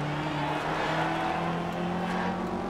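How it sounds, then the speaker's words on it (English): Engine drone of an old Subaru WRX Impreza driving in the racing video game Forza Horizon 2, a steady loud hum sustained throughout without a break. "I just realized this is an old Subaru WRX."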